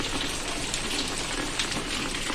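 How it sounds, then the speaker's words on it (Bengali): Heavy downpour falling outdoors, a dense and steady roar of rain that stays even throughout with no voices. "বাইরে মুষলধারা বৃষ্টি হচ্ছে, মুষলধারা"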